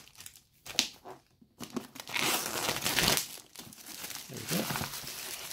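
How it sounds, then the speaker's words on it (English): Plastic wrapping being peeled off a Bose QuietComfort 35 II headphones box: close crinkling and tearing of film in irregular bursts, with brief pauses between pulls. "peel the rest of this wrapping"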